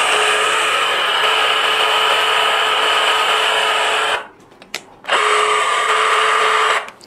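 A Bosch GBH 187-Li cordless rotary hammer runs in drilling mode, a steady high whine held for about four seconds, a short pause, then a second burst of similar length, loud and close with no talk.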